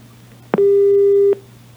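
A single steady electronic busy tone sounds for under a second after a short click as a phone call is cut, over a low background hum.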